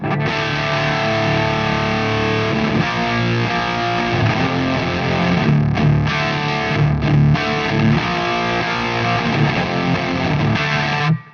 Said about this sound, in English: let's listen to the isolated track of just the guitar